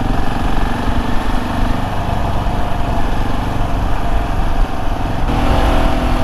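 A KTM 690 Enduro R single-cylinder motorcycle rides steadily through Welsh countryside near Chirk, its engine droning continuously and loud with wind rush, a slight tonal shift near the end, no talking.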